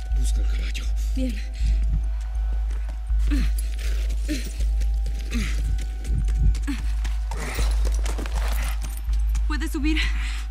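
Horse hooves clip-clop in a steady rhythm in The Last of Us, a video game, beside a low constant hum and game sounds, with faint talk over them.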